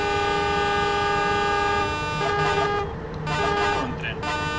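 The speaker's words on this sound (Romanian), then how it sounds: "Un tren" A sustained, loud train horn from Train Simulator blares with a steady multi-tone chord while rail rumble and a voice speaking sit underneath.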